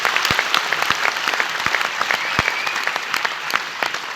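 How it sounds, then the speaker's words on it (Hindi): Loud crowd applause fills a large event hall, a dense, steady clatter of many hands clapping with scattered sharper claps throughout, no voices on top. "एक बार एपीएल के लिए जोरदार ताली हो जानी चाहिए।"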